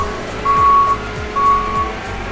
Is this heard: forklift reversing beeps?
yes